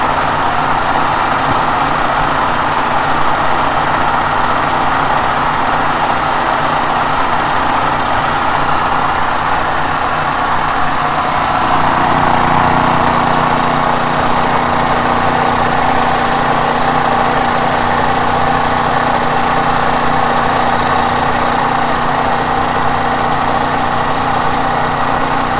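An engine fitted in place of an electric motor runs a 12000-watt, 220-volt generator, a loud, steady, close droning hum whose tone shifts slightly about halfway through.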